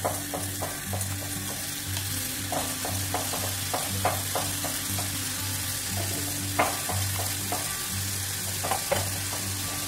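Ground tomato puree with green chillies fries in a pan, a continuous close sizzle broken by repeated scraping taps of a spoon as it is stirred, with no talking.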